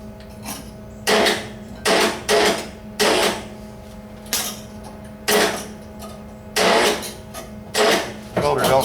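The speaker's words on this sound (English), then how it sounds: "I'll go ahead and zap some tack welds in this, see if the welder's going to cooperate today" A welder zapping tack welds on a convertible car body in a workshop: about ten short, crackling bursts roughly one second apart, each sharp and close, over a steady low hum.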